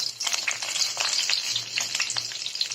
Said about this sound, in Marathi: आणि ही चणा डाळ घातलेली आहे, ती थोडीशी अशी खरपूस भाजून घ्यायची आहे पहा।